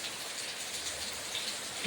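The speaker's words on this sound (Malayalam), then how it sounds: "പുറത്ത് നല്ല മഴ പെയ്തുകൊണ്ടിരിക്കുകയാണ്" Steady, heavy rain pours down outdoors as a continuous wash of broadband hiss, moderately loud and even throughout, with no voices.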